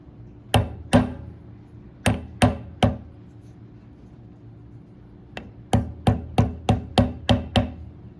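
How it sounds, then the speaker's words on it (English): Hammer blows seating the cap of a hydraulic cylinder from a Case 850 dozer: sharp metallic strikes in groups of two or three, then a quick run of eight evenly spaced hits, close and loud. "Probably should use a smaller hammer."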